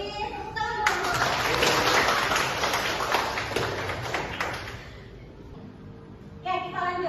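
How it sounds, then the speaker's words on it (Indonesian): Applause from a group of teachers at a training session on lesson planning swells quickly, holds for several seconds, then dies away before a voice speaks again. "Beri tepuk tangan dulu."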